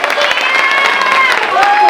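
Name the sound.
audience applause at a fado night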